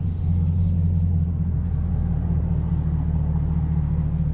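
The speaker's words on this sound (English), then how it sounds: "I'll get the RPMs up a little bit for you." A C8 Corvette fitted with a Borla ATAK exhaust idles and holds raised revs, giving a deep, steady rumble close by. No talking.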